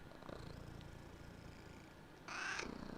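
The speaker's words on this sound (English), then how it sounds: "Listen to his purring. Come on, in the mic, bub." A cat purrs softly and steadily right against a microphone, a faint, close, continuous rumble that swells a little louder near the end.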